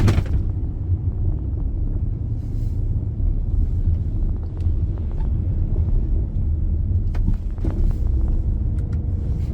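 A car with a manual transmission holds second gear, its engine producing a steady, loud low rumble heard from inside the cabin, with faint wind buffeting and occasional soft knocks and no speech.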